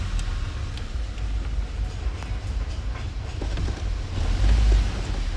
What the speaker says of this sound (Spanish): Para que se vea que estoy acelerando.